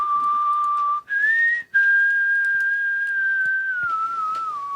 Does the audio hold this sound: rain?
no